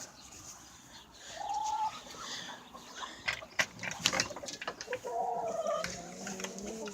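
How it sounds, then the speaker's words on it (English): Chickens and a rooster on a snowy farm cluck and call in short bursts, with several sharp vocal peaks over a steady barnyard background. "Rooster!"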